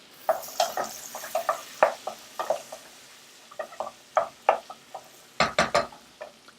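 Chopped asparagus and onion are stirred in a pot, giving a run of short, crisp scrapes and light clinks in an uneven rhythm, close and moderately loud with no talking.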